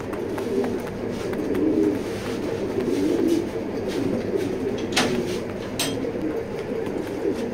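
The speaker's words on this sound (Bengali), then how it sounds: "অনেক ছটফটে কবুতর" A restless racing pigeon cooing close by, soft repeated coos over wing flutters and handling rustle, with a couple of sharp clicks near the end.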